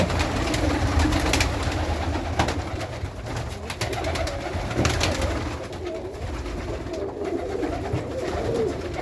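Pigeons in a loft that is hard to clean, cooing continuously at close range over a dense, busy background, with occasional sharp knocks and no voices.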